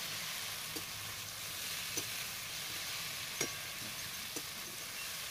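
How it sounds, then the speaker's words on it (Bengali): Potatoes sautéing with ground cumin and black pepper in a pan, a steady, even frying sizzle with a few soft stirring clicks spaced out through it, no voices. "তারপরে দিচ্ছি জিরের গুঁড়ো, সামান্য গোলমরিচ গুঁড়ো, দিয়ে একটু কষিয়ে নেব।"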